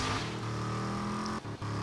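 A car driving through the wasteland in the video game Rage, its engine holding a steady hum with low tonal drone and two brief dips near the end, loud and alone.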